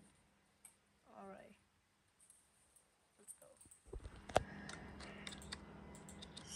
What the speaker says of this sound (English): We're gonna test our new mouse and keyboard.